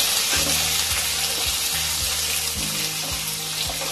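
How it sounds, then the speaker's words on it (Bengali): Potatoes frying in a pan of oil for a Bengali bhetki fish curry, a steady hiss and crackle of sizzling with a few soft knocks of utensils against the pan. "আলুগুলো লাল করে ভেজে নেব।"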